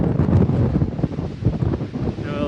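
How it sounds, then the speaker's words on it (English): Steady gusting wind roars across the microphone on a mountain summit near Humphrey's Peak, Arizona, a broad rumbling buffet with no voices, constant and close throughout. "It's getting cold and windy."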